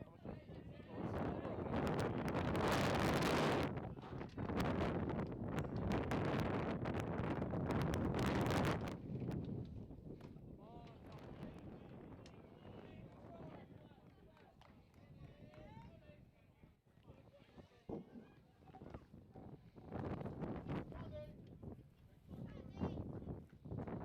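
Wind gusting across a high school baseball field, with heavy roaring buffeting in the first nine seconds, then easing to a lighter, steadier rush beneath ongoing speech.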